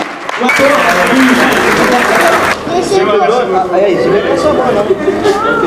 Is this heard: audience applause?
yes